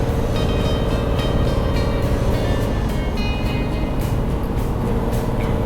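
Steady, loud engine rumble from the cab as a furniture delivery lorry makes its way down a steep descent, a continuous vehicle drone with faint road noise and no voices.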